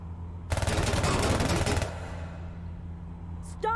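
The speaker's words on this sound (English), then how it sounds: "Stop, stop, just stop shooting at us." Rapid automatic gunfire from the sci-fi adventure game Technobabylon sounds as a dense, clattering burst lasting about a second and a half. It cuts off abruptly, leaving a low hum.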